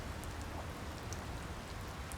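Steady rainfall from the video game Secret Files 2 hisses evenly and continuously, with occasional faint droplet ticks and no talking.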